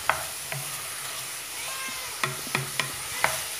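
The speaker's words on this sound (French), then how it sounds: "Je vais encore laisser mijoter tout en remuant pendant environ 5 minutes ou 10 minutes." Veal and potato stew simmering in a pot with a soft continuous sizzle, while a spoon stirs it and scrapes and knocks against the pot several times, close up.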